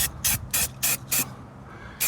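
Five short bursts of aerosol spray paint in a steady rhythm, each a sharp hiss with brief pauses between, close by, then a sixth burst begins, spraying red parts on a 1992 Honda Civic EG hatchback.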